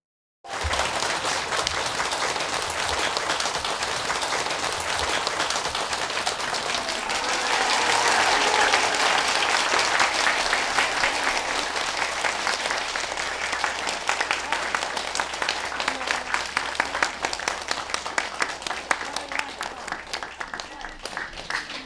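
An audience at a Buddhist teaching session in France claps steadily for about twenty seconds, a dense, sustained applause that swells in the middle and then thins into more distinct individual claps.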